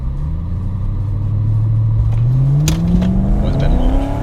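BMW E39 540i V8 sedan accelerating hard from a standstill toward 100 km/h, heard from inside as a loud, steady engine drone rising in pitch through the gears, with no talking.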